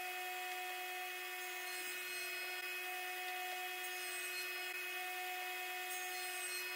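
A power saw runs steadily while cutting wooden pieces for a DIY computer desk, giving a continuous high whine with a constant tonal hum and no breaks or voices.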